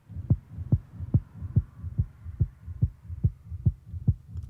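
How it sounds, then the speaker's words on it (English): A deep, regular thumping pulse, like a heartbeat, drives an electronic track, repeating about twice per second with a low hum underneath and no voices. "Sounds like a heartbeat, like a rave."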